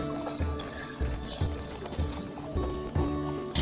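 Hooves of a draft horse clip-clop steadily in a video game as it pulls a wagon, a regular rhythm of close, moderately loud steps under a continuous background of game music or ambience.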